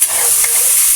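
Chicken pieces for tinola frying in a hot pan, a loud continuous hiss and sizzle with faint stirring scrapes, close and brief, no voices.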